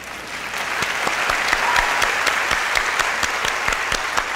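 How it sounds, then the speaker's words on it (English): Steady applause from an audience, many hands clapping together at an even, sustained level throughout, with sharp nearby claps standing out over the dense wash of the crowd. "I'm clapping for my wife."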